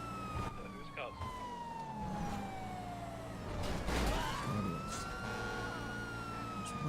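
A police car siren wails, its pitch sweeping down and then rising again in a slow cycle, accompanied by road and engine noise and a brief burst of radio-like chatter.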